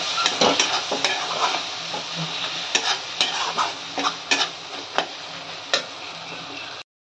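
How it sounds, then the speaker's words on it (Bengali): Spice masala for ghugni, with yogurt added, being stir-fried in a pan, a sizzle under repeated rhythmic spoon taps and scrapes against the metal, no speech. "এইগুলো দিয়ে আরও ভালো করে কষাতে হবে।"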